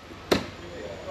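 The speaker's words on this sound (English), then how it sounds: "That's the sound of an axe being thrown." A thrown axe hits a wooden target once, a single sharp thud that quickly dies away in a quiet outdoor setting.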